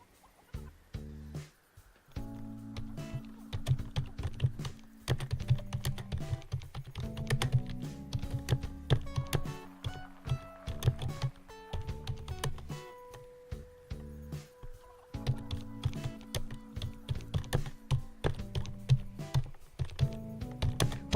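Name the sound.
typing on a computer keyboard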